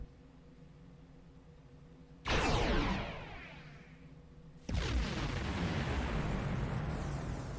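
Two heavy booming blasts from a nanite torpedo launch in Star Trek Online, each a sudden loud whoosh with a long rumbling decay, over a low steady ship hum.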